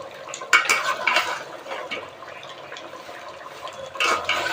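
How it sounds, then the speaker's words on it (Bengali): Meat being stir-fried with ground ginger, garlic and chili paste in a pot, heard as a close, irregular run of metal spoon scrapes and clinks against the pot over a soft, wet background, with no talk. "বাটা মশলা দিয়ে ভালো করে কষে নিতে হবে"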